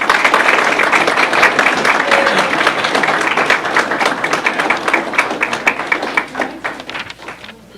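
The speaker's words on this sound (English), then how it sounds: "So please give them a round of applause." Applause from an audience at a Board of Education meeting, loud sustained clapping from many hands that gradually thins and fades toward the end.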